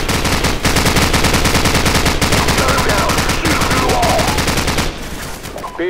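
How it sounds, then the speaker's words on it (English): Call of Duty 4 combat with dense, loud machine-gun bursts in rapid repeated rhythm, nearly continuous before easing near the end, with faint voices underneath. "Jackson, get their machine gun!"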